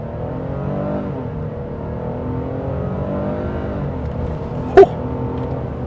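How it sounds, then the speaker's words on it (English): A 2025 Nissan Frontier Pro-X pickup in two-wheel drive pulls hard off the line, its engine drone swelling with layered rising tones, steady and close, with one sharp brief knock near the end. "You can try one out off the line, see if it puts the power down with just the two-wheel drive"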